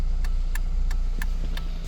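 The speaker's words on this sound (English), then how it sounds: "The flasher unit installed and the car engine running." A 2006 Ford KA's flasher unit clicks at a steady, even pace, about five sharp ticks, close and clear over the low idle hum of the running engine.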